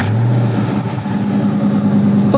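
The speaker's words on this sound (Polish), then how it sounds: "To, co słyszycie teraz, to jest praktycznie fabryczny układ wydechowy z delikatnymi zmianami" A Ford Mustang with a near-stock exhaust idles close by in a steady low rumble, with a slight rise in engine tone partway through.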